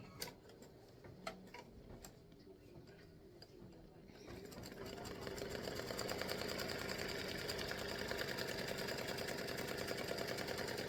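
Embroidery machine sewing a placement stitch on green fabric for a baseball field applique, first faint ticking, then a steady fast mechanical rattle that settles into a continuous hum-and-tick, with some voice under it.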